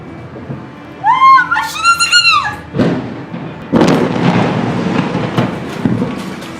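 A leaked-gas explosion at an Exxon station in Makhachkala, Dagestan, sounds as a deep booming blast followed by a long rumbling roar, after a brief high whining tone.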